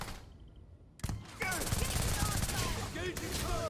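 Gunfire in the video game Starfield: a short quiet lead-in, then rapid bursts of automatic fire break out and continue loudly, mixed with game voices and effects.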